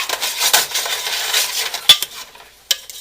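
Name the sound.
stirring and shaking mushrooms in butter in a pan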